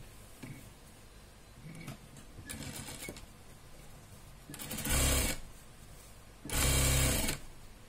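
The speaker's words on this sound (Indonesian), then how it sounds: "Dan kita jahit tindas di bagian kombinasi atas saja." Topstitching along a fabric mask pouch on a sewing machine: a few short, soft mechanical bursts, then two louder whirring runs of roughly a second each, separated by quiet handling sounds.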